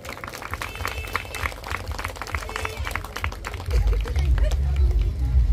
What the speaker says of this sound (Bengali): করতালি দেবেন সকলে।